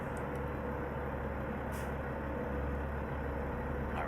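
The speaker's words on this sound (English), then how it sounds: "Time to hit the brake." A truck's air brake in American Truck Simulator gives a brief airy hiss over a constant, loud diesel engine drone.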